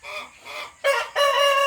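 Chickens in a poultry house give a few short clucks, then louder drawn-out, crowing-like calls, close and clear.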